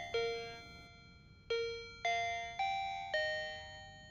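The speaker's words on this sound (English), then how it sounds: "You will hear a chime sound confirming that they have connected." A series of bright electronic chime tones from an Arlec DC688 wireless door chime, five ringing notes in a row, each one sounding and slowly fading, clear and alone.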